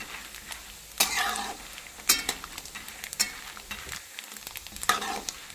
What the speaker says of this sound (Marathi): शेंगदाणे तेलात तळून घ्यायचे